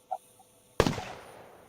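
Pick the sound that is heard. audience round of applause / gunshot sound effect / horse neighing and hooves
gunshot sound effect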